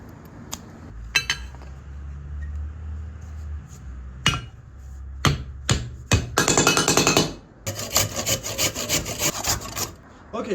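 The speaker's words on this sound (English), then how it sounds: "We can just take a piece of wood and shove it in there." A piece of wood shoved into the end of a metal pipe for a DIY forge: scattered sharp knocks and taps, then bursts of scraping, rubbing friction as the plug is worked in, close and fairly loud, no talk.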